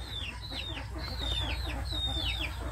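Domestic chickens cluck and squawk nearby in a backyard coop, with repeated short calls overlapping against a steady low background rumble.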